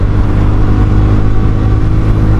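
Honda Vario 150 scooter fitted with a Kenziro aftermarket exhaust running close by, a loud, steady throaty engine drone with a mild rev and no talk over it.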